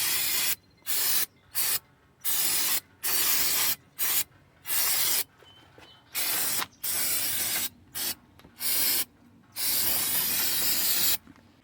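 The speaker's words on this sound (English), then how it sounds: "And then we clean over here with this carburetor cleaner." Carburetor cleaner sprayed onto a front brake caliper of a Nissan Pathfinder, a dozen or so sharp hissing bursts of uneven length in quick succession, close and clear with no talk.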